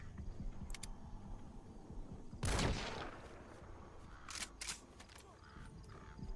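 A sniper rifle shot in Metal Gear Solid 5 rings out as one sharp, loud crack with a decaying tail mid-clip, followed by fainter clicks and shorter reports over a low game ambience.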